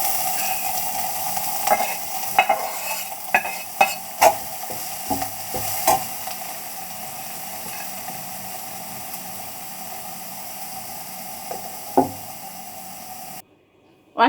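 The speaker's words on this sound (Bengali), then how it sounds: "রসুনটা লাল লাল হয়ে গেছে, মরিচটাও ভাজা হয়ে গেছে। এখন শাকটা দিয়ে দিব।" Greens dropped into hot oil with fried garlic and dried chillies, sizzling steadily with scattered stirring clacks and scrapes, fairly close and alone without talk, cutting off near the end.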